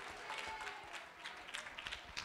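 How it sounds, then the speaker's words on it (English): Faint, steady applause from a room of participants in a mock Senate session honors the senator from Rhode Island, with scattered sharper claps standing out. "round of applause for the senator from Rhode Island"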